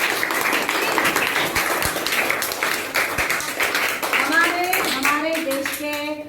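Clapping from an audience at a school event in a Gandhi Vidyalaya, a dense continuous patter of hands throughout, with children's voices rising toward the end.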